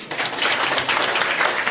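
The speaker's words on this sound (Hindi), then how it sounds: "इनके लिए जोरदार ताली बजा दीजिए," A village gathering during a religious chariot procession breaks into applause, a sudden burst of dense, steady clapping that kicks in after a brief pause and keeps going at full volume.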